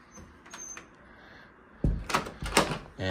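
Interior door in a small furnished one-bedroom apartment opening, with a sudden loud thump and rattling knocks and scrapes in the last second after a quiet stretch.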